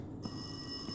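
A telephone rings in the horror video game Rise of Insanity, inside a gardener's greenhouse: a steady, thin electronic ring starts after a brief pause and holds quietly for about a second.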